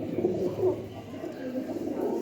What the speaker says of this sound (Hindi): ये दोस्तों प्रिंस कमंगर कबूतर